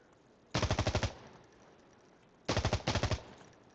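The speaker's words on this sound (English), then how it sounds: "Where the fuck are they shooting me from?" In the video game Insurgency Sandstorm, two close, loud bursts of automatic rifle fire cut through a quiet background. The first burst has about seven rapid shots, and the second has two quick clusters.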